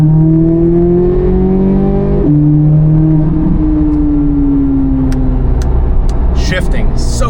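A sports car accelerates hard, its engine drone climbing in pitch before a quick gear shift drops it, then rising again; loud and close, as heard from inside the cabin.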